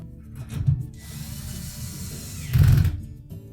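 A hand-held powered driver tightens two hose clamps inside a GE dishwasher during a lower spray arm base repair, giving two short whirring bursts close by with quieter mechanical handling in between.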